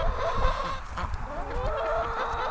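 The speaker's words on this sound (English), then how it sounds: "looks like all the chickens are waiting for me to get them some feed and water." Chickens cluck close by in a run while waiting for feed and water, a busy, overlapping stream of soft clucks and murmurs at moderate volume.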